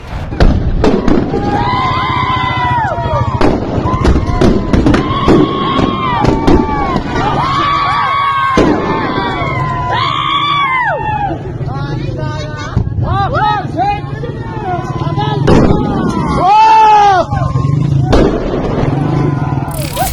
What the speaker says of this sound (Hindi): ईरान की प्रदर्शनकारी जनता ने अपनी पुलिस के ऊपर बम पटाखे फेंके